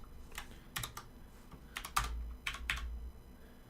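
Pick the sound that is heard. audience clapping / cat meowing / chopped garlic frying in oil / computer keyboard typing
computer keyboard typing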